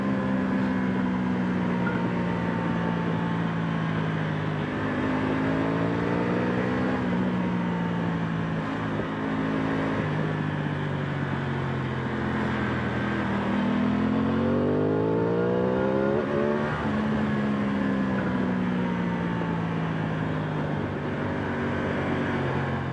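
Aprilia Tuono 660 Factory motorcycle accelerating hard, with the engine note climbing and dropping repeatedly in quick shifts through the gears. The rising harmonic sweeps sit loud and close, with no talk.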